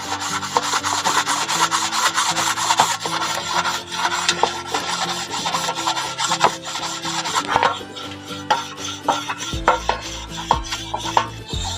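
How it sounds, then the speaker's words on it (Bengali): Brass and bell-metal utensils are scrubbed by hand with a scouring pad to lift stains. A continuous rasping rub in quick back-and-forth strokes is heard close up, with occasional metallic clinks and no speech. "এই বাসন মাজার লুটি দিয়ে এইভাবে করে ঘষতে হবে, তাহলে কিন্তু সুন্দরভাবে দাগটা উঠে যাবে।"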